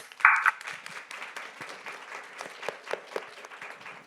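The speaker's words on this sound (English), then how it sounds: "I hope you could hear the applause in the room." Applause from the audience in the room at a trade-policy panel, a continuous patter of many hands clapping at moderate, somewhat distant volume, with one louder burst near the start.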